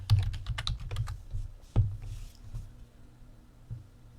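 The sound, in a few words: typing a command on a computer keyboard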